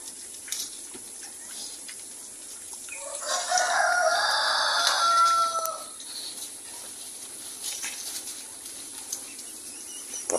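Backyard poultry, chickens, ducks and turkeys, cluck and call after feeding, with a rooster-like crow rising midway; the sounds are moderately close and scattered over quiet background.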